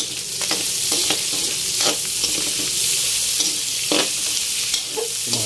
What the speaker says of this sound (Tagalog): Lagyan na natin yung ating luya at yung ating sibuyas. At haluin na natin.